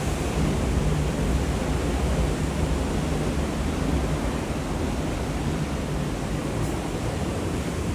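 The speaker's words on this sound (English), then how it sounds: "If you like the sounds of the ocean, then you can open the doors" A constant, dense wash of ocean surf heard from an oceanfront balcony at Lighthouse Beach roars evenly throughout, broad and steady with no distinct breaks or voices.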